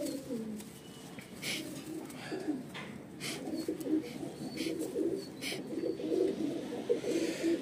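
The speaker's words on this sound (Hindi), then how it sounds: "ये भैया, ये भी मेरा कबूतर है जैलदार" A pet pigeon, a loft bird of Pakistani stock, coos softly in repeated low, throaty phrases close by, with faint chirps and quiet background noise.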